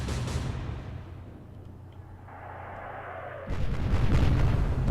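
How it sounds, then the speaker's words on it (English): Naval gunfire in a video game about the heavy cruiser HMS Berwick engaging the Admiral Hipper: a heavy rumbling explosion that fades, then a second sharp loud blast of shell hits and booms near the end. "Lots of hits and a big explosion there"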